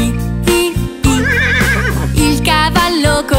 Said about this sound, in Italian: Il cavallo corre fa